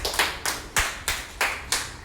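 A small group of children clapping their hands together in a classroom, six or seven bursts of applause in a quick regular rhythm, fairly close and alone with no talk.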